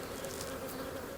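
A small honey bee swarm hums in a steady, dense buzz during a hive inspection, close and continuous, with no voices.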